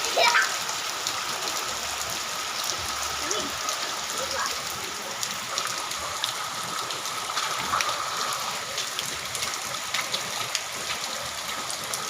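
Steady rain pouring on outdoor surfaces while children play and bathe in it, constant hiss of falling water with splashes and kids' voices talking and calling throughout.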